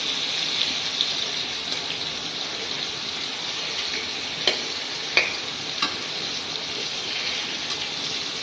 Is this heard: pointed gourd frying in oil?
yes